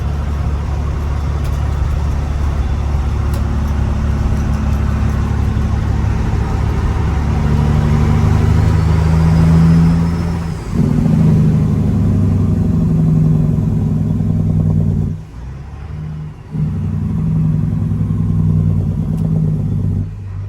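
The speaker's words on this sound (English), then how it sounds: "So I took the truck for a test drive." A Peterbilt 379 truck with a swapped disc-brake front axle and lowered stance drives on a test run, its engine a steady loud low drone with clattering, dipping briefly around two-thirds through before resuming.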